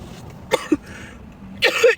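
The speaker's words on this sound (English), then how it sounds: "It's like that dry freaking cough." Dry coughs from a man indoors: one short burst, then a brief second cough, and after a pause a longer rough cough cluster near the end, close and fairly loud with no talk between.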